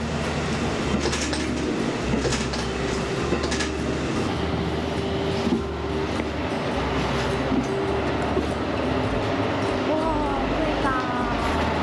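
Retro local diesel railcar in wintry Hokkaido rumbling steadily with a loud, continuous engine drone and rail clatter heard from inside the carriage, with faint voices in the background.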